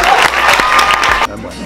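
Audience clapping at the FestiPrev 2016 award ceremony, a dense, steady burst of applause from a crowd that cuts off sharply near the end, with some voices mixed in.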